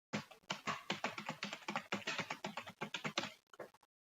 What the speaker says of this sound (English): I enter a lot of keys for the password, but you don't see, right?